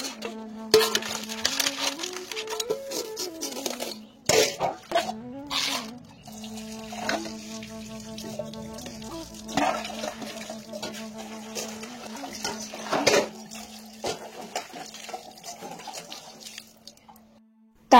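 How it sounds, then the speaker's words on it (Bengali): A kadai and other pots scrubbed under running water at a kitchen sink, with a steady stream of water, metallic clinks and scraping, and occasional knocks of cookware throughout. "এই যে কড়াই বাসন কোসনগুলো মেজে নেব"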